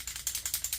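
A screwdriver ratchets while backing out large screws on an Atari 2600 Heavy Sixer console, giving a steady run of quick, close, crisp clicks with no voices.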